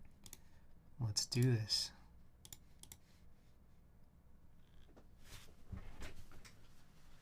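Keystrokes on a PP60 keyboard fitted with GMK keycaps in a quiet room: sparse, crisp clicks in small clusters, with a brief spoken phrase near the start.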